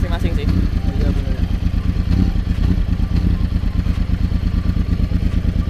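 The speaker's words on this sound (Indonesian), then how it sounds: "Ini suaranya kayak lebih ke GP ya. Crossplane kalau ini R1." A Yamaha R1 superbike with a crossplane engine idles and burbles with a steady, throbbing pulse close by, while people talk over it.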